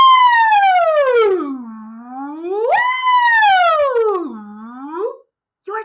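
A voice imitates a fire truck siren during a children's music class, producing two long, loud wails that sweep up and slowly down, with a short, quieter fragment at the end.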